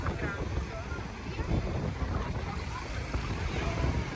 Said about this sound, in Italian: Peccato che ci sia un po' di vento